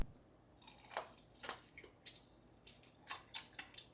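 Faint, sparse crunchy bites and chewing on burnt, crispy pork belly with a crackly top and soft fat layer. Crisp snaps come in small irregular bursts, close by, with no talking.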